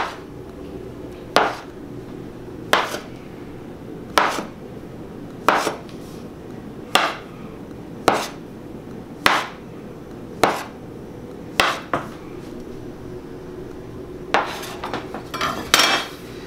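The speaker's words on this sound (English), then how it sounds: "you're gonna take that knife, about 1/4 inch each time" A knife chops through fresh pasta dough on a board to cut fettuccine, with about a dozen sharp, evenly spaced thuds, close and distinct, and a quicker cluster of cuts at the end.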